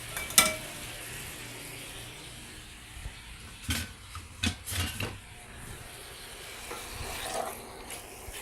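Marinated pork browns in a hot pan, giving a steady sizzle and crackle broken by several sharp stirring scrapes and clatters of a utensil against the pan. No one speaks.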